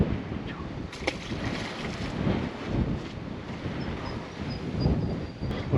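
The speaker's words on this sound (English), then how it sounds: "Wind's picking right up" Strong wind on the water during cast netting for bait buffets the microphone with a continuous low rumble and surging gusts, close and loud, over faint sea noise.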